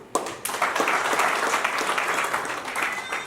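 Audience applause at a church gathering, dense clapping that starts abruptly and continues steadily and fairly close for a few seconds.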